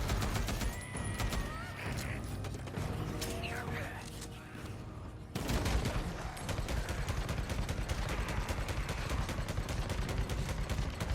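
Rapid bursts of RPD machine gun fire in the Days Gone video game, loud and close: a dense, steady automatic chatter that stops briefly and then resumes more heavily.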